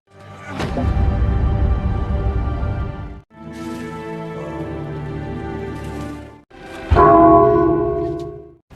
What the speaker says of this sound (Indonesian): Lonceng kerajaan dibunyikan sebagai tanda bahaya mendekat.